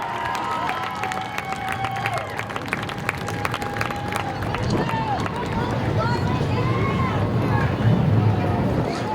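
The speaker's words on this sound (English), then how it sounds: "How about a round of applause for our Helger South Coast Power Equipment Sportsman winner, Scott Serydynski Jr." A crowd at Seekonk Speedway applauds the Sportsman feature race winner with steady, distant clapping and cheering that builds toward the end beneath an announcer's amplified voice.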